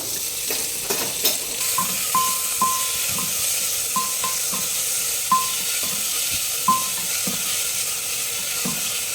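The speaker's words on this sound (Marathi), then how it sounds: "मी टॉमॅटो आणि कांदा एकत्रच टाकत आहे त्याच्यामध्ये" Curry leaves, tomato and onion hitting hot oil in a pan for sambar, giving a steady sizzle with repeated clinks and scrapes of stirring throughout, fairly close and with no talking.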